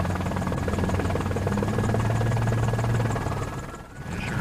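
Steady, close rotor thrum of a police helicopter hovering above a nighttime highway pursuit by the California Highway Patrol and LAPD, a continuous rhythmic chop that dips briefly near the end.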